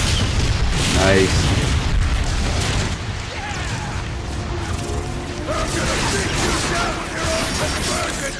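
Tank cannon blasts and explosions in the video game Transformers: Fall of Cybertron, loud booming bursts over dense mechanical battle noise, with a voice speaking briefly.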